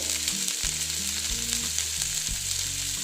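Onions, spring onions, beans and capsicum fry in a pan, a loud continuous hissing sizzle close up, steady throughout with no voices.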